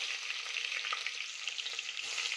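Cumin seeds and finely chopped onion fry in hot oil inside a pressure cooker, giving a steady, close, even sizzle with no voices over it.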